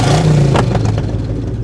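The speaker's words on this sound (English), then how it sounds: "That sounded like a car in the hallway." A car engine revs up inside an indoor hallway, a loud, sustained low rumble with a rising pitch sweep and a few clattering bursts, heard alone without talk.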